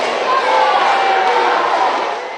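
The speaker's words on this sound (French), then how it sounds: "tonnerre d'applaudissements pour accueillir le président du Faso" Big crowd of workers at an event welcoming the president of Burkina Faso roars in sustained cheering and applause, a dense continuous wash that slowly fades toward the end.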